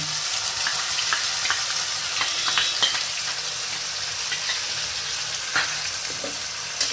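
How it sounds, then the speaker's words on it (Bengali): Onion, garlic and ginger paste frying in oil with cinnamon in a wok for a prawn curry, a loud, steady sizzle with occasional light stirring scrapes and no talking. "কড়ায় 3টে পেঁয়াজ বাটা, 4টে রসুন বাটা, 1 ইঞ্চি আদা বাটা দিলাম।"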